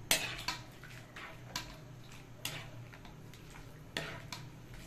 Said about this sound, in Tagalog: kailangan lang po nating halo-haloin mga idol para yung gata ay hindi mamuo